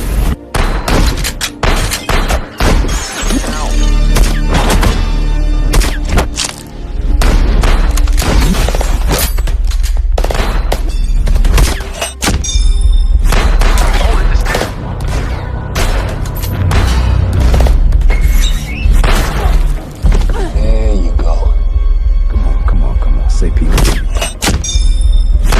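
An action film gunfight crackles with rapid bursts of gunfire and heavy booming explosions, loud and dense throughout, while a narrator's voice talks over the chaos.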